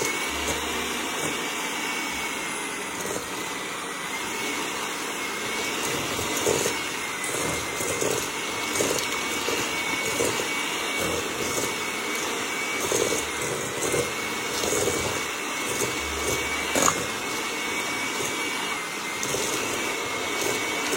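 An electric mixer creams butter and sugar for chocolate chip cookie dough, giving a steady, even whir that runs unbroken and fairly quietly with no talking.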